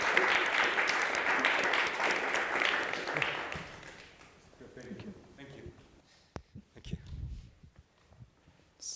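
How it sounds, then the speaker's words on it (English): Conference audience applauding at a closing session, a dense burst of clapping that thins and fades out after several seconds, leaving scattered sparse claps and a few knocks. "I would say a big round of applause."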